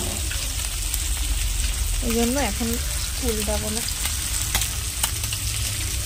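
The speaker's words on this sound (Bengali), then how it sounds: "প্রথম খোলার মাছ ভাজতে দেরি হয়, তারপরের মাছগুলো দিলে তাড়াতাড়ি ভাজা হয়ে যায়" Loud, steady sizzling of food frying in hot oil throughout, with a person speaking briefly over it in the middle.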